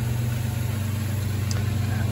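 A 2015 Camaro engine idles steadily after an engine and cam swap, a low, even rumble with a constant hum that stays loud and unchanging throughout.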